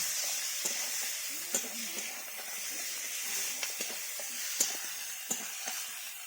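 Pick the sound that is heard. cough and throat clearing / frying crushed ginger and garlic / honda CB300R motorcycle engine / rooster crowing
frying crushed ginger and garlic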